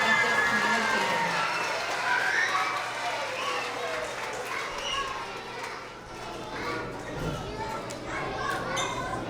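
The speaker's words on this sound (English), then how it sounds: "let's have another round of applause for all of our first and second grade effective communicators" First and second grade students at an end-of-year school award assembly give a round of applause, a loose, continuous clapping mixed with lively children's chatter and shouts throughout.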